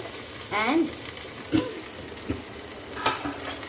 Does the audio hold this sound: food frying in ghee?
yes